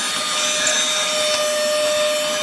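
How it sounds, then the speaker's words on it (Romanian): A vacuum cleaner runs steadily while cleaning the inside of a faulty PS3 console, a loud, close, continuous whine with a hiss that holds without pause and no talking. "Să mai dăm un pic de aspirator."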